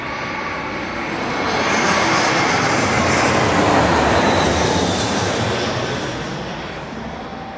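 A fixed-wing airliner lands with a steady, loud jet engine roar that swells in the middle and eases off, heard alone with no talk.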